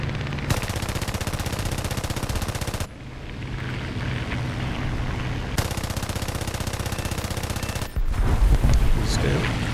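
Rapid aircraft machine gun fire from a J8A fighter in a War Thunder air arcade battle, loud and close, in long sustained bursts with brief pauses between them and engine drone underneath.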